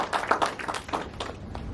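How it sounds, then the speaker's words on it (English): Audience applause at a startup and AI decision-intelligence talk: a brief round of scattered clapping from a modest crowd, fairly close and irregular, fading out after under two seconds. "let's have a round of applause"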